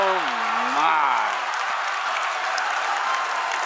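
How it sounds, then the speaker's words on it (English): A high school boys' basketball crowd at a state tournament game roars with sustained cheering and applause, loud and dense throughout, with an announcer's voice briefly rising over it at the start. "That crowd is loving it."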